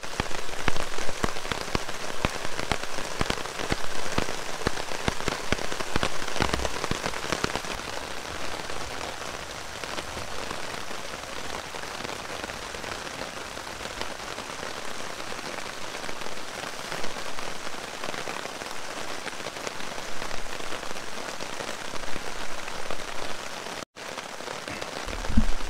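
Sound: heavy rain falling during a storm in the Adirondacks

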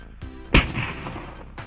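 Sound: firecracker exploding on ice

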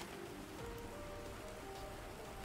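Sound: rain in the video game Planet Crafter

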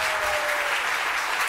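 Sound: studio audience applause

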